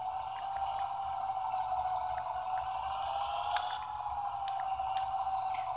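A tractor engine runs in the Farming Simulator 18 video game, giving a steady, even drone with a faint rattle. It holds at a constant level throughout, with no talk over it.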